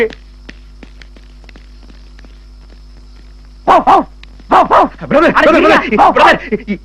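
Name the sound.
person imitating a dog barking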